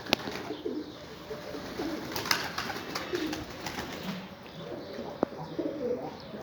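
Pigeons cooing on a rooftop loft, soft repeated coos with faint chirps and an occasional sharp click, steady outdoor ambience with no talking.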